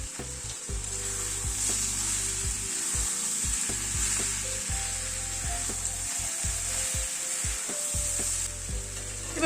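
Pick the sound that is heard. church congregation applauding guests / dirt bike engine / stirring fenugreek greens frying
stirring fenugreek greens frying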